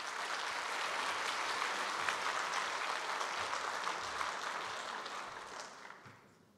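A conference hall audience in Strasbourg applauds to welcome the Eurometropole president at an opening plenary session. The sustained crowd clapping holds steady for several seconds, then thins and fades away at the end.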